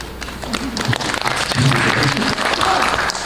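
Audience applause rings out in the Myeongdong Theater during a post-show artist talk for a National Theater production of A Midsummer Night's Dream, a dense, even burst of many hands clapping close by.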